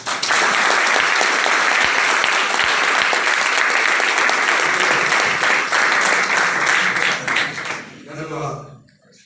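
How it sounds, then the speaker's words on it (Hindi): A seminar audience breaks into loud, dense applause to welcome a new guest, the clapping sustained and crowded for several seconds before thinning out, with a voice emerging at the end. "वो हमारे नए मेहमान के लिए अब तक की सबसे जोरदार तालियों से स्वागत करें।"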